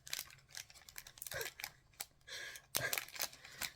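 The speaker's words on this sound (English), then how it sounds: "Okay, I'm going just to rip it open." A Hershey's milk chocolate bar wrapper being ripped open up close, with sharp crinkling and tearing bursts in an uneven rhythm.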